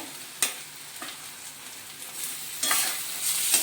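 Mashed eggplant is stirred into fried onions in a pan for traditional bharit, giving a soft sizzle with a few distinct scrapes and a louder burst of frying near the end.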